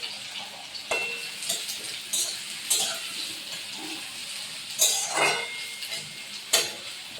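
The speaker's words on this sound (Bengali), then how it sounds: "তো আমি পেঁয়াজ কিছুটা বেরেস্তা করে নেব।" Onions fry in a pan for mutton biryani with a continuous close sizzle. A utensil scrapes and stirs the pan in several brief, sharper strokes.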